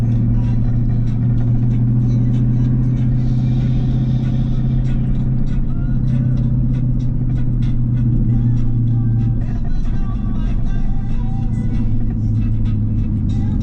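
Steady car engine and road rumble from the inside while cruising to a park, a continuous low drone that runs the whole way with slight variations and no talk.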